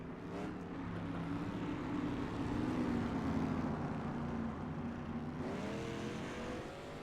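Factory stock race cars at a green flag start on an oval track, a loud sustained roar of many engines accelerating together, pitch climbing and shifting as the field pulls away, with no talk over it.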